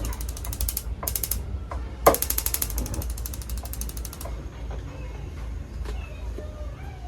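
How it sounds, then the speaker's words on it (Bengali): A gas stove is switched on under a large kadai, with bursts of rapid mechanical ignition clicking over the first few seconds, then a low steady background hum. "আমি গ্যাস অন করে নিচ্ছি।"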